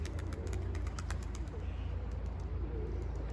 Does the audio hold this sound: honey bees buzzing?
no